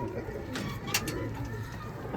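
Pigeons on a rooftop give soft cooing calls, with a couple of brief sharper notes standing out over a steady background wash.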